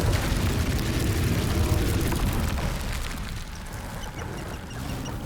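Confringo spell blast in Hogwarts Legacy, a loud broad rumbling burst that rolls on and slowly fades into a noisy crackling tail, with no voices.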